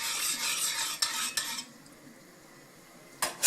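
A metal pot is scraped and stirred with cutlery while potatoes are cooked, giving a rough, fairly close scraping, a few sharp clinks, then near quiet until a last clatter at the end. No one speaks.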